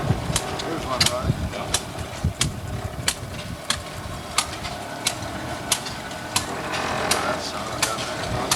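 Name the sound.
steam engine running at a show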